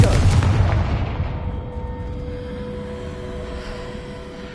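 A Confringo fire-blast spell explodes in Hogwarts Legacy with one loud, deep boom at the start. The blast rumbles and then fades into a long, dull tail.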